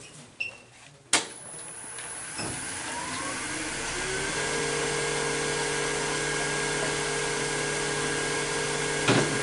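A wooden bowl of squarish shape spins on a lathe as a gouge removes a lot of wood, giving a steady whine and hiss that sets in after a couple of sharp knocks and holds to the end.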